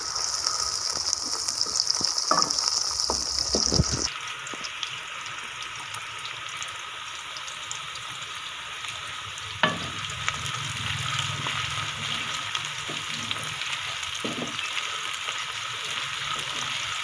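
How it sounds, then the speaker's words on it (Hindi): Onions frying in ghee for a potato mongray dish give a steady, fairly soft sizzle throughout, with a louder crackle of something dropping into the pan at first and a few faint clinks and knocks later. "सबसे पहले घी में प्याज डाल दें।"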